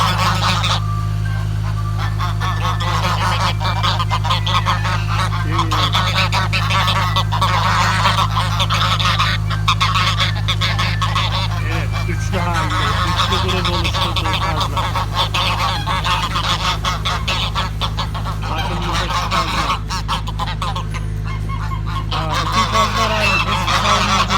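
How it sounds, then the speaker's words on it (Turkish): Geese honk repeatedly over a steady low hum, a busy, continuous chorus of calls close to the listener. "Şey çok güzel kazlar."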